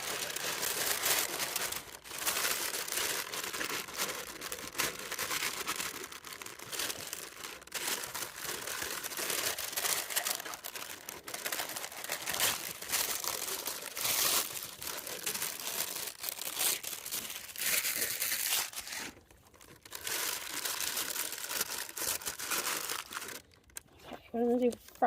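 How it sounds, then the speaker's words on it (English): Parchment paper crinkles and rustles almost continuously as it is pressed into a cast iron pan at an outdoor campsite, close and busy with sharp crackling bursts, with a brief pause near the end. "So what I'm going to do is line the bottom with parchment paper."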